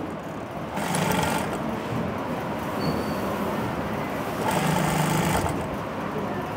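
An electric sewing machine stitches the lining fabric of a garment in a sewing class, its motor whirring steadily in two louder bursts with a quieter hum between, close up and with no voices.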